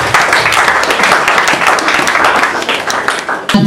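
A church congregation at a Wuppertal service applauds loudly and steadily, dense clapping filling the space for several seconds before it breaks off abruptly at the end.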